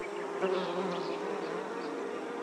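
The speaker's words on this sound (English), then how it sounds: "Bees live in a society that has been super perfected." Bees buzzing around a beehive, a steady, dense droning hum that holds continuously and close, with slight swells as individual insects pass nearer.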